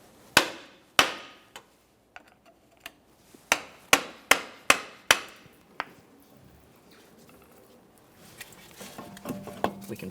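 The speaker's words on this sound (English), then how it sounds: "now I'm going to lightly tap with my hammer" Hammer taps drive a CV axle out of the transmission on a 2014–2019 Toyota Corolla, about ten sharp metallic strikes in uneven bursts, close and loud, followed by softer clanks and rattling as the axle comes free.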